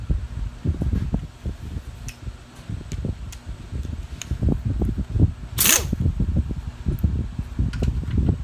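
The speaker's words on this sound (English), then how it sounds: "I got the fan going because it's pretty warm in here." An electric fan runs in a warm workshop where a small engine on an airplane tug is being repaired. It makes a steady low whirring hum under scattered light ticks and clicks, with one brief hiss.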